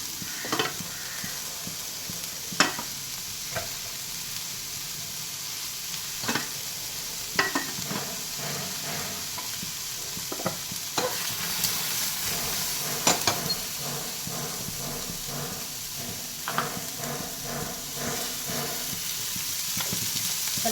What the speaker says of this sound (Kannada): ಸ್ವಲ್ಪ ಎಣ್ಣೆ ಹಾಕ್ಕೊಬೇಕು, ಫ್ರೈ ಮಾಡ್ಕೋಬೇಕು.